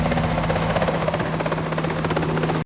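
A helicopter's steady rotor thumping and engine whine, loud and close, continuous throughout before cutting off abruptly at the end.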